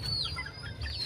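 Hens and chicks cluck and peep softly while being fed. Thin, high chirps sweep up and down over low, quiet background noise.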